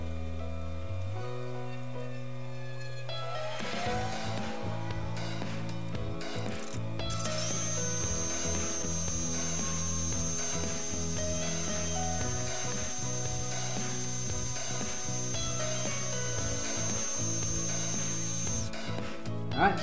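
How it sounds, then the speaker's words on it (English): A machine tool cuts flat spots into a part for a Chevy 454 big block engine, giving a steady, fairly faint grinding and whirring hum with shifting metallic tones and no talking. "I'm gonna machine some flat spots on either side"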